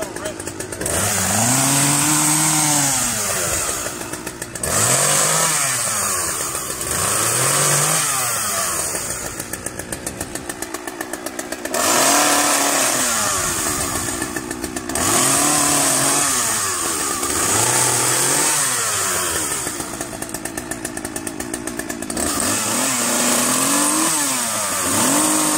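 Chainsaw engine used to cut down a tree, loud and close, repeatedly revving up in rising whines then dropping back to idle in a cycling rhythm, with people talking over it at times.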